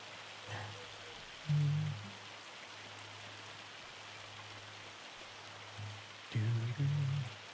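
Steady light rain falling in Farming Simulator 25, a soft even hiss throughout, with a few low thumps and tonal bumps breaking in briefly over it.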